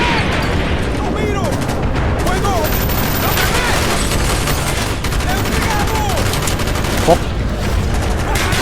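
Dense, rapid gunfire crackles continuously in a Call of Duty: Black Ops battle, with bursts of automatic fire and shouting voices mixed in throughout.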